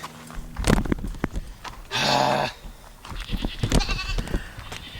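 A goat on a farm lets out one loud, harsh bleat at close range, with shuffling, rustling and hoof clatter from the animals around it and no talking.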